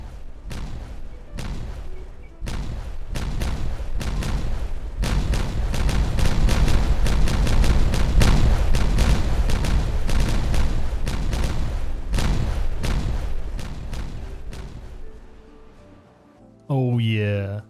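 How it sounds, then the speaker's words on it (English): Explosions set off in the colony-building game Timberborn, a long run of dense, rumbling game blasts and crackling debris lasting most of the span, loud and sustained, ending in a brief sweeping tonal effect. "That last explosion was very anticlimactic, so hopefully this one's more exciting."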